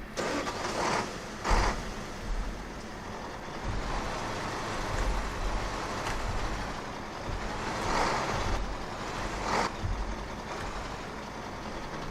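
A truck engine cranks and starts in the Farming Simulator 15 game, then idles and revs with a loud, rough mechanical rumble that stays close and continuous throughout.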